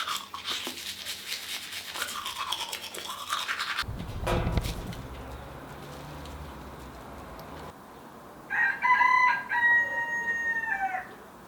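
A rooster crows twice near the end, loud and fairly close, each call a drawn-out, wavering cry, following earlier scrubbing from toothbrushing and a quieter stretch of background hiss.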